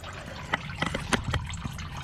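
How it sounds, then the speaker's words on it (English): Water drips from a car's oil pan in a quick irregular series of small splashy drops, close and fairly clear, with no voices. "I gotta find out why I'm dripping water from the oil pan."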